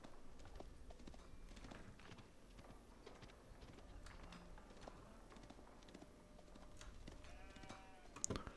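Sheep bleat within the mix of a busy Age of Empires 4 match, set against a soft, steady bed of game ambience and clip-clopping hooves, with one brief louder sound near the end.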